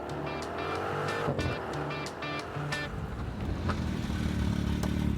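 A Bentley GT Speed and a Porsche 911 GT3 Touring drag race, with loud continuous engine roar, rising revs and gear changes, and tire noise throughout, close and without talk.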